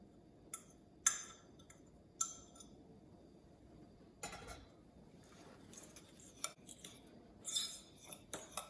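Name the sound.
stirring butter into graham cracker crumbs and sugar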